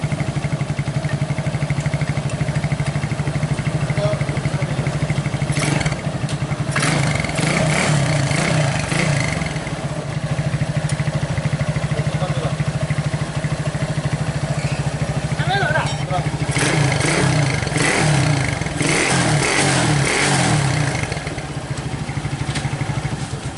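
A 1996 Honda GL Max motorcycle engine, just repaired after smoking heavily, runs steadily throughout, idling with occasional revs, while someone talks over it.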